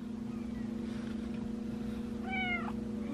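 A single short meow near the end, heard faintly over a steady low engine-like hum.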